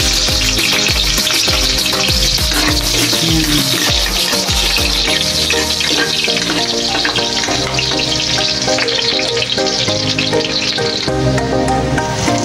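Chopped onions hitting a hot pan and frying, a loud continuous sizzle with clattering and scraping throughout, some louder bursts at the start.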